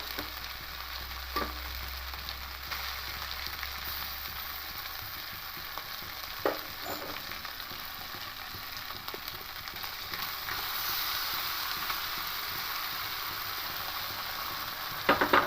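Boiled moong dal being stir-fried in oil with ginger in a pan, a quiet continuous sizzle broken by scattered scrapes and clicks of the spoon against the pan, with no voices.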